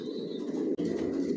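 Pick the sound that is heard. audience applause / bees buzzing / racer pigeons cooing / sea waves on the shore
racer pigeons cooing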